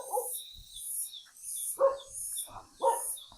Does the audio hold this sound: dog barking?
yes